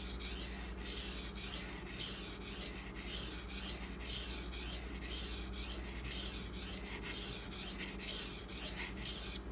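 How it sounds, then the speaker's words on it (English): A Maxamet steel knife blade is drawn across a friable, coarse Kyoto 150 whetstone, giving close, steady, rhythmic rasping strokes that repeat about twice per second with no talking. "I may go ahead and take the Maxamet to this stone too, just to see what happens."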